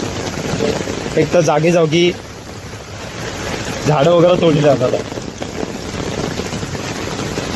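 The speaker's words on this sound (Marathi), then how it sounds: "काय पाऊस पडतोय जबरदस्त" Heavy monsoon rain falls in Mumbai as a steady, dense hiss that runs the whole time, with someone talking over it in two bursts.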